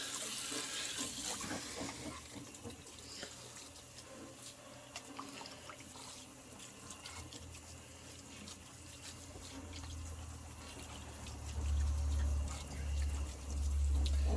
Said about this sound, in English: Let's give these a quick little rinse.